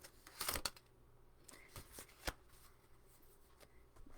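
Tarot cards are shuffled and handled close by, with a brisk riffle near the start followed by scattered soft flicks and taps in a quiet room.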